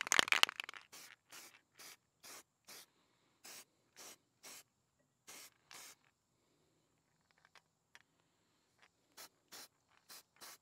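Short aerosol bursts of tacky sealant onto a riding lawn mower head gasket: a quick cluster at first, then a string of evenly spaced brief hisses with pauses, faint and close.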